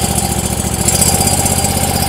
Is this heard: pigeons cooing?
no